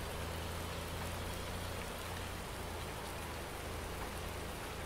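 Steady in-game rain in Farming Simulator 19 on the Felsbrunn map, a continuous broadband hiss that stays even and fairly soft throughout with no other sounds rising above it.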